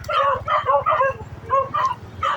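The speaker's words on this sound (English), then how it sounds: "Dogs." Several dogs bark and yip in quick, excited bursts, close by and fairly loud, with a whimpering edge and short pauses between volleys.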